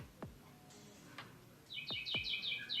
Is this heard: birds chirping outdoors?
yes